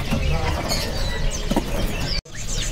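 Small birds at a kiosk in a bird market chirp and flutter up close, a busy continuous twittering with bursts of wing flapping and faint murmur of people nearby.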